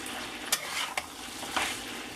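Home fries frying in oil, a steady close sizzle broken by a few sharp scrapes and clinks of a utensil stirring them in the pan.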